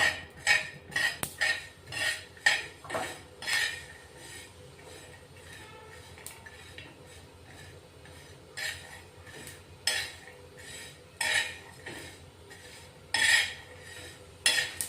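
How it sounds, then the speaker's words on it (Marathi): Sesame seeds dry-roasting in a pan as a spoon scrapes and taps the metal in repeated bursts, near and moderately loud over a faint background hum. "तीन चार चमचे तीड घ्यायची ही भाजून घेऊ आता"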